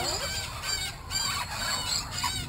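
Exotic pet bird at a Florida bird rescue giving repeated high, harsh squawks and squeals amid a noisy, busy room, fairly close and loud throughout.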